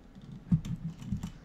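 Typing on a computer keyboard that slides around the desk, giving a few soft, close keystroke clicks in an uneven rhythm with no talk.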